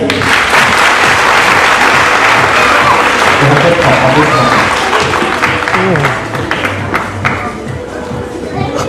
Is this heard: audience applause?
yes